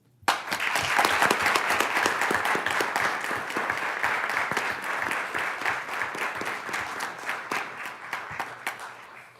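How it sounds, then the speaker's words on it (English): Audience applause at a school board meeting, a sudden burst of many hands clapping that starts loud and dense, then slowly thins and fades over about nine seconds, no talking. "Let's give a round of applause to Miss McNeil."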